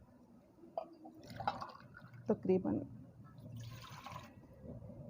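Water poured from a glass into a cooking pot set over a flame while minced-meat filling is prepared, giving a soft splashing stream under someone talking.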